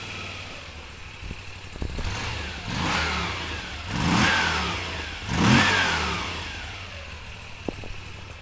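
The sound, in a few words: Moto Guzzi V7 Stone III 750 V-twin motorcycle engine starting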